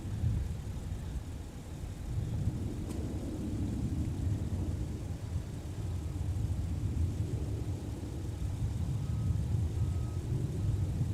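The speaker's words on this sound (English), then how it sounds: "SkyWest 4266, outbound with a CRJ." A SkyWest CRJ regional jet departs Minneapolis–St. Paul airport, heard as a steady, broad low engine rumble and roar at a distance, continuous with no talk.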